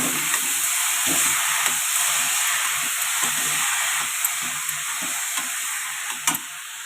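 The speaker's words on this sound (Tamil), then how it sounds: "இப்போ அந்த ப்ரக்கோலி எடுத்து கொட்டிடலாம். கொட்டிட்டு கிண்டுவோம்." Broccoli tossed into a hot pan and stir-fried, a steady close sizzle and hiss with irregular scraping knocks of the spatula stirring, no voices over it.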